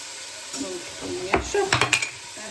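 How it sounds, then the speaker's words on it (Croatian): Chopped onion frying in a pan in a home kitchen hisses, and a string of quick scraping clinks from stirring runs through it, with faint voices in the background. "evo sad hoću malo da propržim taj luk"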